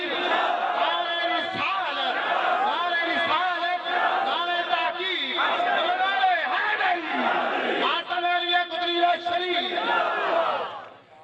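A large crowd chanting the Nara-e-Takbeer slogan in unison at an annual urs gathering in Jhelum, loud, sustained massed voices with a rhythmic call-and-response rise and fall that fades at the end.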